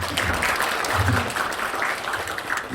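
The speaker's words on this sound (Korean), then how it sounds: "환영한다는 의미로 다 함께 박수로 환영하겠습니다." Audience applause at an international future-education forum in Osan, a dense, steady wash of many hands clapping throughout, fairly loud and close, with faint voices mixed in.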